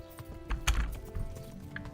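Horse hooves clip-clop in the video game Kingdom Come: Deliverance, a few soft, uneven close steps over a faint background hum.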